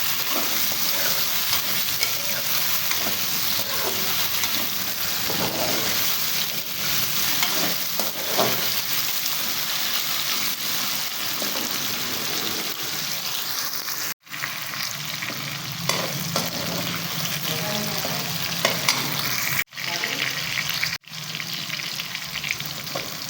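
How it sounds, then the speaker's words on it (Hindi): Potatoes fry and get stirred in a pan, a dense continuous sizzle heard close and fairly loud with a few brief scrapes and knocks near the end. "आलू 1 से 2 मिनट के लिए हम फ्राई करेंगे।"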